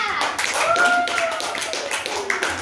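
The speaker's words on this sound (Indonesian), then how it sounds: "Oke, tepuk tangan semua" A classroom of students claps hands together in a steady, dense patter, with a voice speaking over the clapping partway through.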